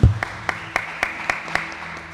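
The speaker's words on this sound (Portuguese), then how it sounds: "As palmas louvam ao Senhor." Rhythmic clapping from a church congregation during a live worship service: evenly spaced, sharp claps in a steady beat, close and fairly loud, with no talking.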